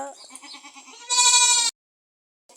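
Goats bleating at a storm-damaged homestead in Kerkha, Nepal, with a wavering cry followed by a louder, higher sustained bleat, then silence and a faint start of another sound.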